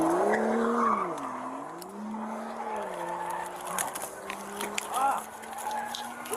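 A car speeds away during a police chase, its engine note rising and falling with bursts of tire squeal, while voices talk and shout over it.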